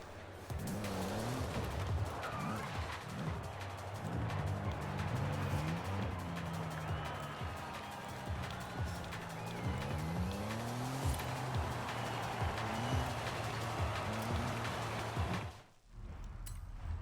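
A tuned 1982 Porsche 911 Turbo 3.3 driving in the racing game Forza Horizon 5, engine note rising and falling through gear changes with tire squeal, steady and prominent throughout before cutting briefly near the end.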